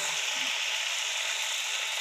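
Onion with ginger-garlic-cumin paste sizzles in hot oil for broiler chicken biryani, making a constant bright hiss that stays even and close throughout, with no talking.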